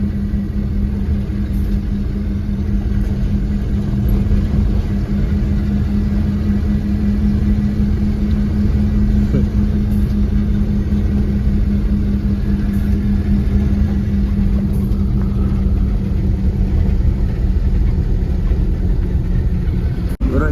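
A truck cruising on a highway at night, its engine a steady, unbroken rumble with a constant hum and road noise filling the cab the whole time.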